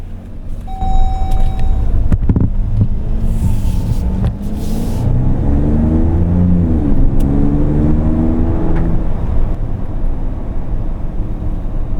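A 2026 Ram 1500 RHO with its Hurricane engine accelerating hard, the loud, steady engine note climbing smoothly through the revs with rising harmonics, heard close from inside with no talking.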